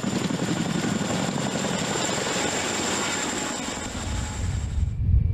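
A large military helicopter flies close by with a loud, steady rotor and turbine roar, a high engine whine running over it, alone with no talk.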